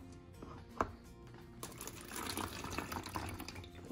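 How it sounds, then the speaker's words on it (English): Hydrogen peroxide pours through a funnel and splashes into a container with a steady trickling rush, preceded by a few small clinks and taps. "we're gonna take hydrogen peroxide and then pour it in here"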